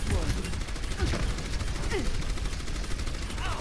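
Gunfire in Overwatch during a match featuring the hero Orisa, a dense continuous rattle of rapid shots with effects layered over it, close and loud, with a voice talking over it.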